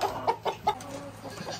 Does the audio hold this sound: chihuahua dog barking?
no